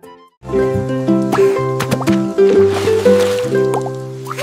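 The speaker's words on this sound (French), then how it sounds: "J'ai éclaboussé mes chaussures dans les flaques d'eau" Water splashing in puddles within a French children's song, with splashy bursts rising through steady sung and instrumental music.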